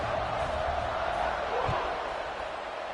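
A college football stadium crowd keeps up a steady, dense roar after a score, with a broad wash of voices from far off and no clear breaks.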